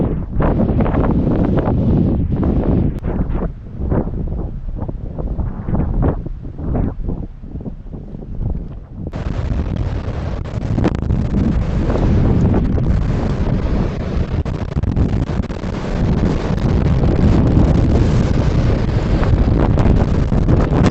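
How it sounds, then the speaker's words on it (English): Strong windstorm wind roars continuously into the microphone at a cabin, buffeting and rumbling, growing heavier and more constant partway through with harsh broadband gusts. "a powerful windstorm tore through the region"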